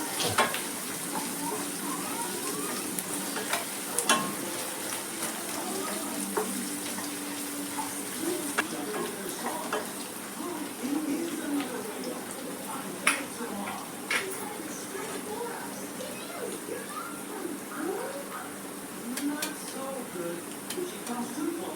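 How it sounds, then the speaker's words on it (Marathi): Onion sautéing with ginger-garlic paste in a pan for Agri-style mutton, a continuous close sizzle broken by frequent sharp spatula scrapes and clicks, running steadily with faint background voices. "अदरक लसूणचीच पेस्ट ब्राऊन होईपर्यंत कांदा परतून घेऊया"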